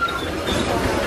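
A Disneyland train passes nearby, a brief rumbling, rattling rush of rail noise with faint talk over it.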